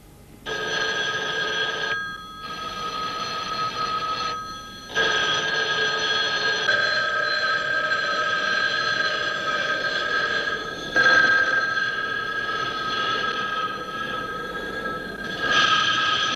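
An old-fashioned telephone bell rings in long repeated bursts with short gaps between them. Each ring is bright and trilling, and it sounds loud and close with no other sound around it.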